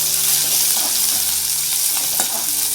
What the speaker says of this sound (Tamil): நம்ம நறுக்கி வச்சுருக்க சின்ன வெங்காயத்தை போட்டுக்கலாம்